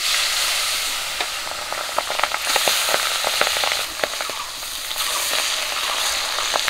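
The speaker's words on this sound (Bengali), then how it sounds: "বাকি মাছগুলো একই রকম করে ভেজে নেব।" Pabda fish frying in hot oil in a home kitchen, a continuous close sizzle with dense popping crackles and occasional sharper spits, no talking.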